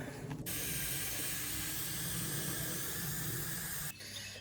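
Steady, loud hiss of a sprayer misting water onto a fresh concrete pad, running continuously for several seconds before cutting off near the end.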